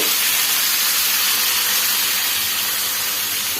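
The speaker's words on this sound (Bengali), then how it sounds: "আর এখন আমি সবজিগুলো দিয়ে দিব হাঁড়িতে। তো এখানে আমি পেঁয়াজ পেঁপে আর হচ্ছে কাঁচামরিচ একসাথে কেটে নিয়েছি, আমি এটা দিয়ে দিব।" Chopped onion, papaya and green chilli hit a hot pot, producing a loud, steady sizzling hiss that stays level throughout with no talk.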